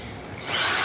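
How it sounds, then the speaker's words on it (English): A power drill bores into a clamped wooden tool caddy, a steady whirring that rises sharply in pitch and loudness midway as the bit spins up. The drill is close and there is no speech. "Now I can drill each of these holes out."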